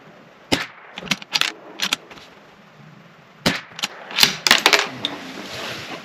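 Several sharp cracks from a Bergara B-14R .22 rifle at an outdoor range, fired singly and in quick clusters at close range with brief quiet gaps between.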